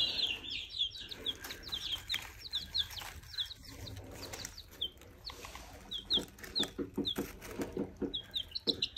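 Two young roosters, a lavender Orpington and a copper Marans, give repeated close high chirps and clucks in quick irregular bursts throughout, with no talk.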